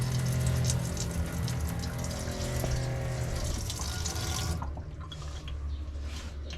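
Water runs steadily from a faucet in a camper van during a water system test, a continuous close splashing that drops to a softer trickle near the end.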